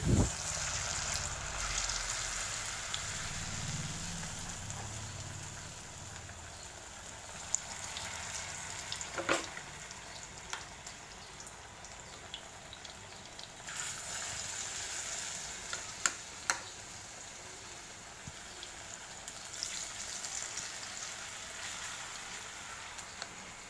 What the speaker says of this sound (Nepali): अब एउटा गरी आलु, प्याज र खुर्सानी फ्राई गर्दै जानु होला।